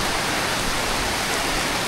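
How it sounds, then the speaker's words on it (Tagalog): Heavy rain pours during a storm at a restaurant, a dense, loud, steady hiss of downpour filling the whole moment with no pauses or voices. "Guys, ang lakas ng ulan, oh."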